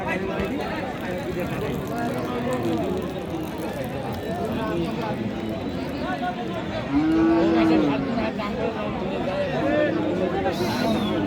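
Cattle at a livestock market moo repeatedly, one long low call standing out near the middle, amid a steady crowd murmur while someone talks close by.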